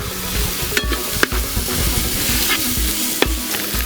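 Sliced onions hit hot oil with browned ginger in a pan for a Kerala-style rabbit roast, crackling loudly up close as a spoon stirs with a few sharp clanks, no voices.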